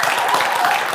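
Steady audience applause fills the hall at a sommelier competition in Estonia, a dense continuous patter of many hands.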